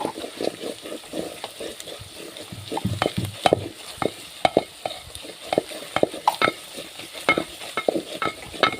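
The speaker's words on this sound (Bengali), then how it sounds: "ভালো করে মশলাগুলো কষিয়ে নিচ্ছি" Spices with turmeric powder and garam masala stir-fried in a pan for an Eid dish, a close, busy run of spatula scrapes and knocks over soft sizzling.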